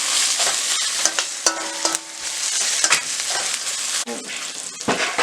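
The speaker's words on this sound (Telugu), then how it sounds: "ఒక స్పూన్ అల్లం వెల్లుల్లి పేస్ట్ వేసుకొని ఫ్రై చేసుకోవాలి." Onion, green chillies and ginger garlic paste fry in a pan, a loud steady sizzle broken by repeated scraping stirs of a spatula, close up with no talk.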